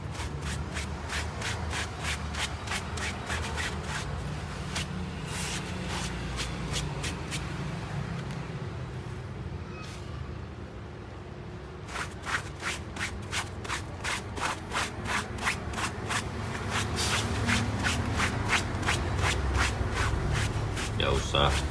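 A dirty Fjallraven Helags cap gets scrubbed by hand, a steady rough rubbing and brushing that speeds into quick rhythmic strokes near the end, heard close and fairly quiet.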